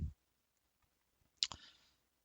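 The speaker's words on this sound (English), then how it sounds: "with some side cutters, you trim them off" Side cutters snip excess capacitor leads on a prop controller circuit board, giving two sharp, close clicks near the middle of an otherwise quiet stretch.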